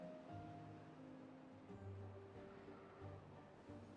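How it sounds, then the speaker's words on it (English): Flowing water fills a river channel in the beaver colony game Timberborn, a steady rushing wash with low surging swells, moderately loud and continuous with no voices. "Here comes the water."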